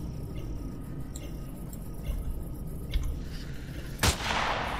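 Sniper gunfire in the video game Empyrion: a few sharp reports over a low steady hum, with one louder, brighter crack near the end standing out clearly.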